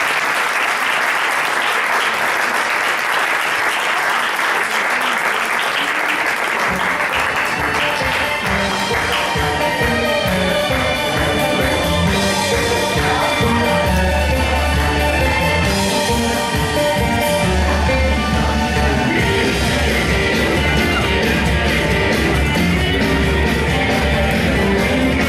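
Sustained audience applause fills a poetry reading night in Terrassa, loud and continuous, with dense rolling claps and a crowd that swells toward the end.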